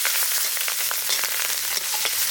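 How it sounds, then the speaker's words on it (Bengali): Mustard seeds sizzle and crackle in hot oil, tempering for a Birbhum-style sour mango curry with small fish and eggplant; a dense, steady close-up frying hiss with scattered pops throughout, no voices. "ফোড়ন দিয়ে দেবো সর্ষে,"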